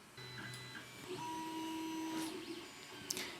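An Ender 3 Pro 3D printer begins printing, its stepper motors whirring and humming in shifting tones, with short buzzing moves and a faint click, quiet and close with no voices.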